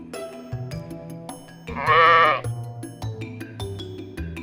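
A sheep bleats loudly for about a second in the middle, a wavering cry set over a busy musical backing that carries on before and after.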